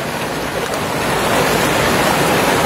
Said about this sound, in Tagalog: Maagos talaga yung tubig, talagang running water.